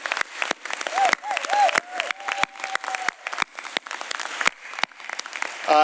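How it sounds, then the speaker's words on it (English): An audience applauds the founders after a pitch competition at a conference, steady clapping from a crowd in a hall with faint cheering, alongside a brief voice. "Can we just give them all one last round of applause?"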